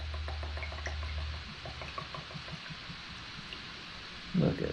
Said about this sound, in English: There's the pour.